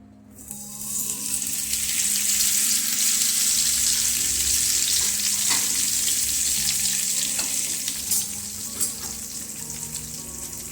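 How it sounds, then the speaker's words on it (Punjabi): Stuffed okra sizzles in hot oil in a pan over a low gas flame, a loud, continuous bright frying hiss with occasional soft knocks of the pieces being set in place. "ਗੈਸ ਦੇ ਉੱਤੇ ਤੇਲ ਰੱਖ ਕੇ ਭਿੰਡੀਆਂ ਨੂੰ ਫਰਾਈ ਕਰ ਲਵਾਂਗੇ"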